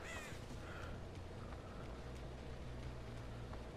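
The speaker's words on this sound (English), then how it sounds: "I saw crows fly, that means there's someone over here." Crows cawing in a video game: a few harsh caws at the start over a steady low background rumble, with no one talking.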